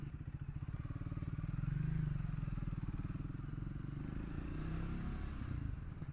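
A single-cylinder Triumph Speed 400 motorcycle engine thumps steadily while riding, its close, rhythmic low pulsing swelling slightly as it pulls and then settling again, with no one talking.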